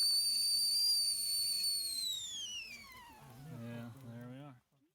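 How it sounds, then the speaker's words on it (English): A whistling kettle on a coffee-can hobo rocket stove gives a loud, steady high whistle that slowly drops in pitch and fades, while people talk nearby. "now it's whistling."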